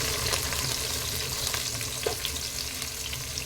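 Sliced onions sizzle steadily in hot oil in a pan for chicken biryani, a dense continuous frying hiss with faint stirring clicks throughout, close and alone without any talk.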